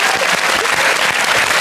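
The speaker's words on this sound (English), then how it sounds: "Don't clap, it's not a Jeremy Kyle show." Studio audience clapping on a British comedy panel show, a dense steady burst of applause filling the room without any voices over it.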